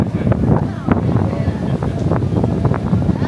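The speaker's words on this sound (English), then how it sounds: "And it is a windy day" Gusty wind buffets the microphone in a steady rumbling roar, with faint outdoor sounds underneath.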